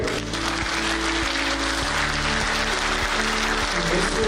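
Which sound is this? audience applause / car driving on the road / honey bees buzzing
audience applause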